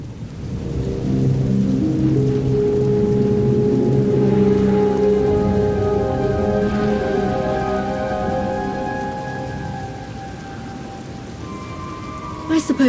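A heavy thunderstorm in the Star Wars: The Old Republic video game, with steady loud rain hammering surfaces and long rolling thunder rumbling throughout, easing slightly near the end.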